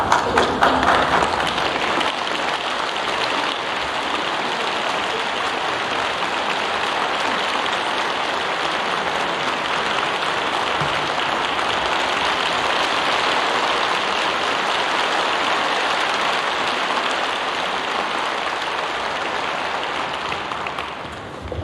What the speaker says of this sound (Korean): 지금 박수 치고 서서 지나가는 장면입니다